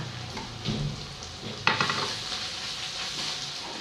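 Close, steady sizzle of bamboo worms stir-frying with kaffir lime leaves in a hot pan until crisp, with scraping stirs and one sharper clank partway through.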